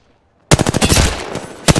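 Automatic gunfire in the video game Apex Legends during a ranked Arena match, a sudden loud rapid burst of shots lasting just over a second after near silence, ending with one more sharp shot.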